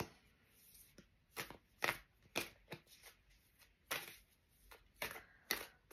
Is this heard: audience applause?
no